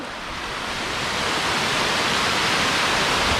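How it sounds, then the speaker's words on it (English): A mountain waterfall in the Philippines roars as a steady, loud broadband rush of falling water that swells slightly and then holds constant, with no voices. "Boy, does it ever turn into a really cool waterfalls."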